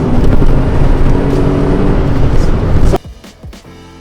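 An MG ZR hatchback engine roaring loud and close for about three seconds before cutting away to quieter ambient rumble with a few faint thumps.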